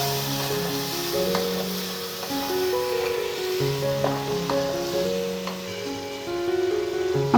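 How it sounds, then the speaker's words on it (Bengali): Chicken frying with spices in a pan, a steady close sizzle with occasional stirring scrapes, heard alone under a faint background tone. "এখন এই মাংসটাকে আমি মশলার সাথে কষিয়ে নিব"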